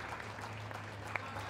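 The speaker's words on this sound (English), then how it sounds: "let's give them a round of applause as they go round the ring" Faint, steady crowd applause rolls through an indoor ring at the Windsor 2012 dog show as the best in show winners circle, with a low electrical hum underneath.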